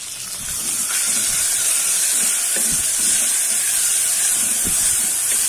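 Ginger garlic paste dropped into a hot pan over golden-brown onions for a pressure cooker plain biryani sizzles loudly and steadily, a dense continuous hiss from start to finish with faint stirring scrapes and no talk.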